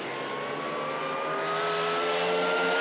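Drag racing cars roaring at the NZ Nationals, a loud, sustained engine wail with a steady rising pitch that holds strong throughout, close and dense with no talk over it.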